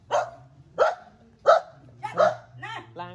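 A dog barks five or six times in a loose rhythm, close and fairly loud, the barks short and sharp with a faint steady hum underneath.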